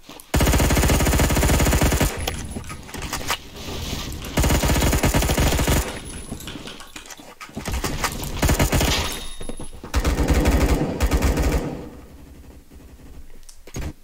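Video game gunfire with armor-piercing rounds, loud close automatic bursts in several separate strings with short pauses between them.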